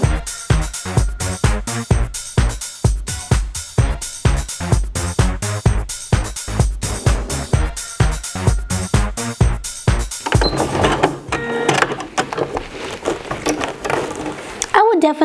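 Sewing machine stitching through thick denim around a jeans belt loop area, a rapid rhythmic mechanical chatter in short bursts that stops partway, followed by a person talking.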